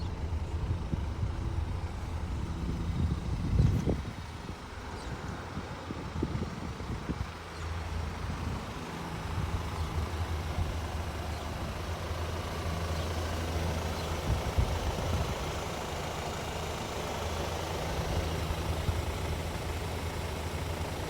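A 2015 Audi Q5's 2-liter turbocharged four-cylinder engine idles steadily with a low, even rumble, with a few faint knocks and shuffles, and no one speaking.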